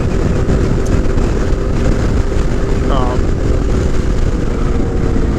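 A Yamaha Tenere 700 adventure motorcycle cruises along with a steady, loud engine drone and wind rush filling the whole stretch, unbroken and close.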